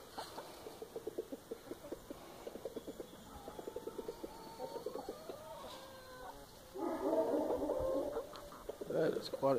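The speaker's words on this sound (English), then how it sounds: "Chickens all over the place." Chickens cluck in quick, repeated bursts, nearby, with other birds calling and some busier clucking later on.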